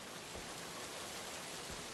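Steady rain falls in the video game Tangles, a dense, even hiss of drops with no breaks, heard alone at a moderate level.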